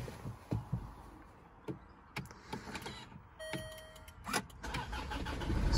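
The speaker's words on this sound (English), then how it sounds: "So what we have to do at that point is start the car up." A Land Rover Freelander 2 with new intercooler hoses and throttle body cranks and starts, preceded by scattered clicks and knocks inside the car, then the engine catches and settles near the end.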